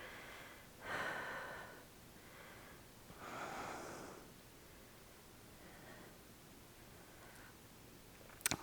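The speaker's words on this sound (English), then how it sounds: "Nice deep breaths here." Slow, deep breaths during a yoga session, a few soft, airy inhales and exhales spaced a couple of seconds apart, close and quiet, with a faint rustle at the end.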